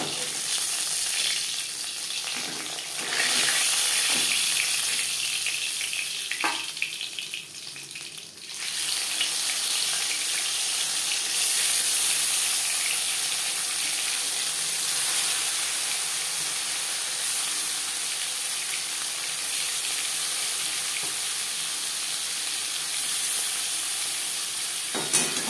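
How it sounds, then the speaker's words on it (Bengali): Bhola Bhetki sea fish frying in oil, a steady close sizzle and crackle running throughout with brief stirring clatter and shifts in intensity, no talking. "মাছ আমি লালচে করে ভেজে নিলাম, একটু কড়া করেই ভাজলাম।"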